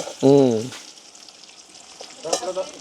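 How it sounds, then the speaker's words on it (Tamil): Buttermilk chillies frying in oil make a low, steady crackling hiss; a short burst of voice opens the sound, and a few brief knocks and tones come near the end. "மோர் மிளகாயும் பொறிக்க வேணும்"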